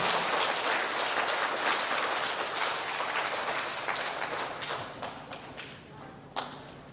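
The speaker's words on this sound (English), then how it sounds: "let's give them one more round of applause" An audience at an elementary school student recognition ceremony applauds a group of students, a dense, steady round of clapping that thins and tapers off toward the end with a few last scattered claps.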